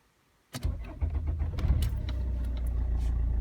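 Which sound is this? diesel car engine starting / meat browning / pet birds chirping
diesel car engine starting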